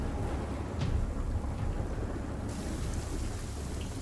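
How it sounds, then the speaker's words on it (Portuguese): Heavy rain pours in a dense, steady wash while a thunderstorm rumbles low underneath, loud and continuous with no voices. "a chuva vem se tornando cada vez mais e mais forte"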